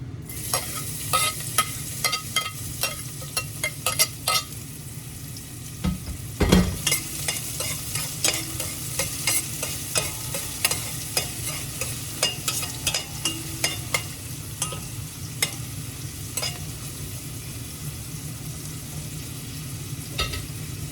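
Onions sizzle in hot oil while being stirred, with a constant frying hiss and repeated close spatula scrapes and clicks against the pan. One heavier knock lands partway through, and nobody talks.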